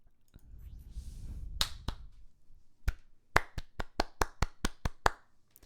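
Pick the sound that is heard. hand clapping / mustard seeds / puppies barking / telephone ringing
hand clapping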